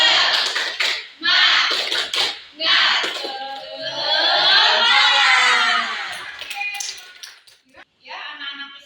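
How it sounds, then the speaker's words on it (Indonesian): Schoolchildren in an Indonesian primary art class perform tepuk semangat, a rhythmic clapping chant, with sharp claps and excited shouted voices from the group filling the room, followed by a stretch of loud, sustained children's chanting. "Kita mulai tepuk semangat."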